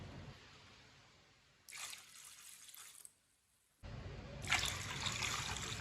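Water poured from a steel glass into a cooking pot for masoor dal, two short bursts of splashing and trickling close by, separated by a brief quiet gap, with no talk.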